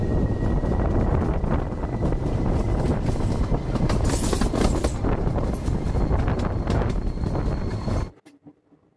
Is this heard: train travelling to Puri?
yes